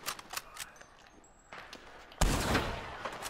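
Gunfire in the video game Red Dead Redemption 2 comes as several sharp shots, with one heavy, loud blast followed by a rumbling tail.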